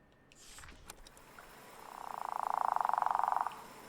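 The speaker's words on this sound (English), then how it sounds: "Ooh, I like the frog sounds." A small frog croaks in a video game, one steady rising call around the middle of the clip that grows loud and holds, with softer ambient game sounds before it.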